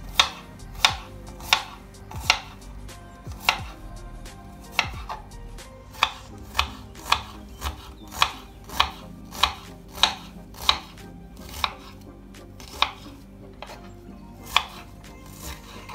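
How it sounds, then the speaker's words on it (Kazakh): Onion and cabbage chopped with a knife on a cutting board for cabbage-filled pirozhki, roughly twenty sharp, evenly paced strokes, close and clear, with no talking. "Одан соң жуаны және орам жапырақты турап аламыз."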